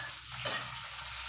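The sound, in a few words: green chillies frying in a little oil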